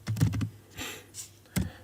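Computer keyboard keys clatter in a quick burst of about five strokes, then a pause with faint rustle, then a couple more keystrokes, close and crisp while Java code is typed.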